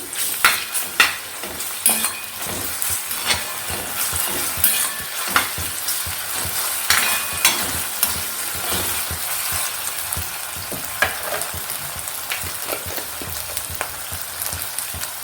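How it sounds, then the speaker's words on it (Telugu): Onions and ginger garlic paste frying in a pan for a prawn and ridge gourd curry, a steady sizzle with repeated spatula scrapes and clinks against the pan, close and loud, without speech. "అల్లం వెల్లుల్లి పేస్ట్ పచ్చివాసన పోయే వరకు వేగాలి."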